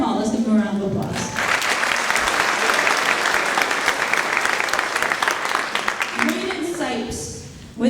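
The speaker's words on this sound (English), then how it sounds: "Ford Mall, let's give him a round of applause." A school audience at a spring choir concert bursts into steady, loud applause that sustains for several seconds and then tapers off, with a voice talking briefly before and after.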